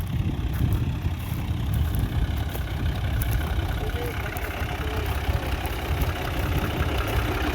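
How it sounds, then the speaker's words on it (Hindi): A tractor engine idles during a wheat harvest, giving a steady, continuous low rumble with an even loudness that never rises or dies away. "ये ट्रैक्टर स्टार्ट किया हुआ है इन लोगों ने।"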